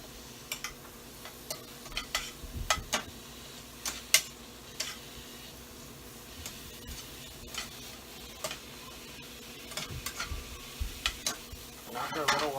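Steak sizzles in a pan alongside mushrooms and onions, turned with tongs so it cooks on all sides; a steady soft frying hiss runs throughout, with scattered sharp clicks and light scrapes, and no talking.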